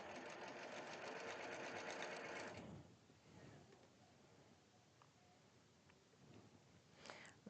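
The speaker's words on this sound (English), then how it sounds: "we're going to stitch with the red side up on the right side" A sewing machine stitching quilt fabric, with a close rapid mechanical whir for a few seconds that then stops, followed by quiet handling and faint rustling.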